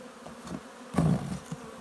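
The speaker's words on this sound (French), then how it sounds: "vous voyez, il y a beaucoup d'abeilles aujourd'hui," Many bees hum and buzz around an open beehive during hive work, a close, continuous drone with one louder swell as insects pass near, and no talking.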